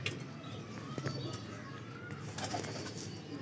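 Parwazi baby pigeons at a seller's loft in Lahore, soft throaty cooing and faint calls over a steady outdoor hiss, with a few wing flutters and voices talking in the background.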